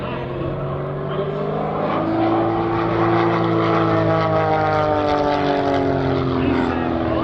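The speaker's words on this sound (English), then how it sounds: "The end result is this gorgeous airplane that you see here today" A propeller airplane flies past at an airshow, its loud engine drone rising and falling in pitch as it sweeps by, with a voice speaking faintly underneath.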